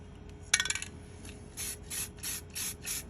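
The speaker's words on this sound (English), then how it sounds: "I'm going to use Rust-Oleum a flat black to just paint over this" Rust-Oleum flat black spray paint is applied in a series of short, fairly close bursts of hissing spray with brief pauses between them, following a quick rattling shake of the can.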